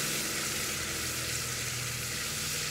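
Tomatoes and green chilies frying in a pan for a winter curry, giving a steady, even sizzle that holds close and constant with no speech over it.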